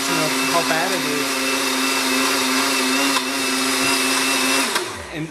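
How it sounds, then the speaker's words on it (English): Blendtec KTec Champ blender making a smoothie with egg shell, a loud steady whirring motor close by that runs evenly, then winds down and stops near the end. "this is the Blendtec KTec Champ blender, which is adequate"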